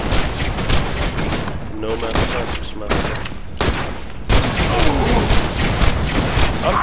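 Grenades explode in Borderlands 2 as a dense, loud run of overlapping blasts and gunfire-like bursts, fairly continuous for about seven seconds, with a voice talking over parts of it.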